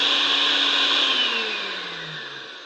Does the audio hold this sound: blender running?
yes